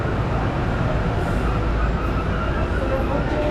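A Tren Maya passenger train at Playa del Carmen station gives off a loud, constant low rumble and hiss, steady throughout with no clear breaks.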